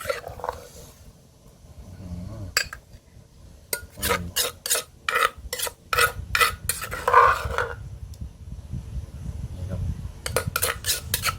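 Chili paste is scooped into a bowl with a spoon, giving a run of bright metallic clinks and scrapes against the dish. The clatter is close and irregular, sometimes rapid, with soft wet stirring between the strikes.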